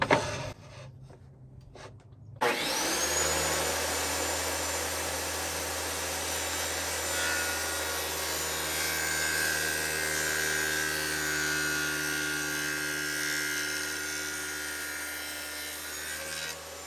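A wobble dado blade spins up and cuts a groove through a wood board, starting abruptly after a quiet moment and holding a loud, steady whine with a grinding cutting tone for over ten seconds.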